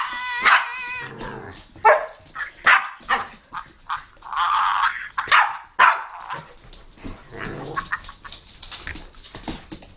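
A dog barks and yips in sharp bursts up close, with growly, whining vocal sounds between barks, loud and irregular throughout.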